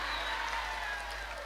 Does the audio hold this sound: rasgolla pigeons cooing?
no